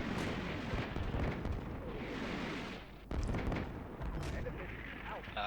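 Mortar shells landing in the video game Combat Mission Shock Force 2, a dense run of heavy booming blasts and rumbling detonations, with a brief lull near the middle before the impacts resume.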